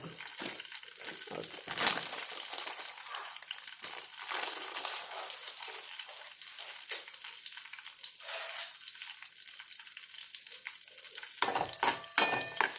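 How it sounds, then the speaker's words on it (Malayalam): Dried curd chillies sizzle and crackle steadily in hot oil in a kitchen pan, a continuous bright frying hiss with brief stirring scrapes and a louder burst near the end. "കുറച്ച് എണ്ണ ഒഴിച്ച് വേണം മുളക് വറുക്കാൻ"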